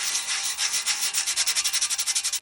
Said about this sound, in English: back to boring sanding